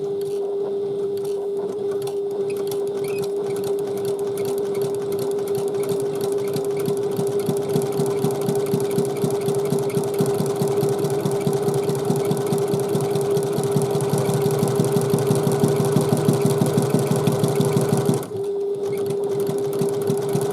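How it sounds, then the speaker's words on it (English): A sewing machine runs steadily for about eighteen seconds, stitching a second row of gathering along a handbag seam, with a continuous whirring drone and rapid needle clatter before it stops abruptly. "And then stitch the second row 1/8 of an inch down from the first."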